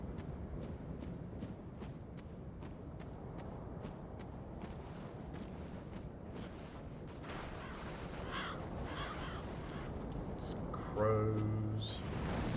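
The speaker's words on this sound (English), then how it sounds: "Crows." Crows caw in Dark Souls III, a few harsh calls rising late in the passage over a steady bed of game ambience and footsteps-like thuds.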